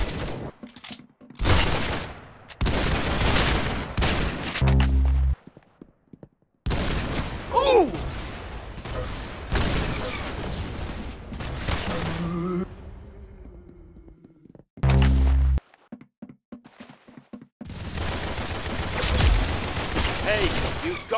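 Bursts of gunfire from the Roblox shooter Arsenal on PC, with several separated volleys of shots between quieter gaps and a voice talking over parts of the action.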